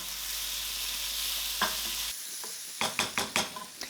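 Smoked streaky bacon cut into thirds, with leeks, frying in a pan: a steady close sizzle for about two seconds, then quieter spitting broken by several sharp utensil scrapes and knocks as the pan is stirred.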